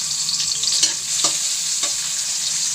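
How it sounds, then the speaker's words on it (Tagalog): Garlic and onion sautéing in a hot pan, a continuous bright sizzle with a few soft scrapes and stirring clicks, close and loud with no voices. "Gisa na natin tong bawang, sibuyas."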